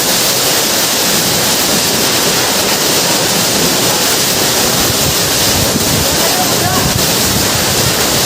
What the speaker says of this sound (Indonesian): kita telah sampai di air terjun Coban Talun, Batu, Malang, Jawa Timur